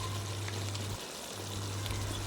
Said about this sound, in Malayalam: തലക്കറി ആയതുകൊണ്ട് കൂടുതൽ വെള്ളം ഒഴിക്കുക.